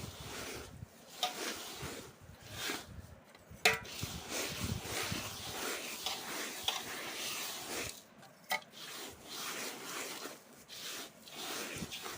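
Poha mixture being stirred after salt is added, irregular scraping and rustling strokes with brief louder scrapes and short pauses, close and moderately loud, no speech over it.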